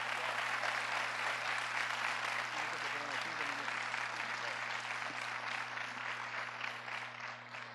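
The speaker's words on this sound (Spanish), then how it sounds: "Un aplauso a Jesús." A church conference congregation applauds for Jesus, sustained clapping that sounds somewhat distant and even, running with a steady low hum and fading slightly toward the end.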